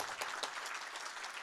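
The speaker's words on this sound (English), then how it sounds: "So then our big applause to all of you." Audience applause for conference panelists at a nonproliferation treaty event, a brief steady patter of many hands clapping at moderate, fairly distant level with no talk.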